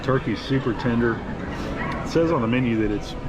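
Small dog in a restaurant yipping and barking in short repeated bursts, close and clear, with a person talking over it throughout.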